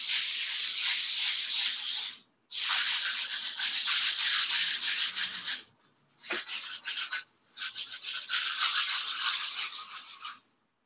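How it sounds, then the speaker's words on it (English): Sandpaper scrubs back and forth over a painted still-life surface in long, steady, raspy strokes, loud and close, broken by a few brief pauses between bursts. "This sandpaper is rougher."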